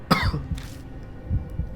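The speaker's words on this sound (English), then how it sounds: "Hero suddenly starts coughing violently." A character in the video game Death Mark coughs violently in a few harsh, close bursts with throat-clearing sounds, followed by quieter rough coughs.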